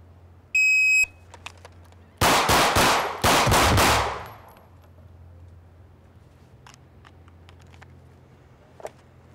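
Rapid gunshots from a handgun in a shooting drill against multiple targets, loud and close: a shot timer beep, then two tight bursts of quick shots in succession, followed by quieter background noise.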